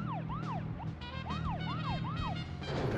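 Police car siren in the video game Deadly Premonition Origins, a loud wailing tone sweeping up and down repeatedly over a steady engine drone, close and continuous for about three seconds.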